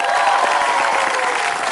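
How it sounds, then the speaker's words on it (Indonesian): A television studio audience at the Indonesian game show Asli Atau Palsu breaks into dense, continuous applause, a steady wash of many hands clapping together with no gaps. "Tepuk tangan dulu buat acara yang luar biasa Asal ini."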